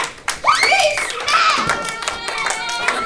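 A group of children claps for a classmate in a short burst, with kids' voices chattering and calling out over the clapping.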